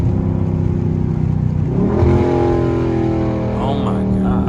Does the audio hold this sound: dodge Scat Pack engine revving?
yes